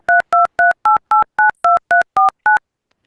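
A telephone dials a number as ten crisp, evenly spaced touch-tone beeps, loud and clean with no talking, then silence.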